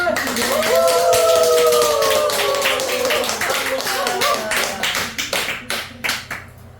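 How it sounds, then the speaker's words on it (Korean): An audience at a Buddhist repentance ceremony claps in a steady rhythm beneath sustained voices, with the individual claps standing out more clearly as the voices fade near the end. "크게 환호성을 치르면서 박수를"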